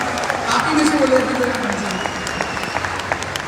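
Thunderous applause erupts from a large seated audience at a live company event in Haridwar, a dense sustained wash of clapping with a brief shout of speech near the start.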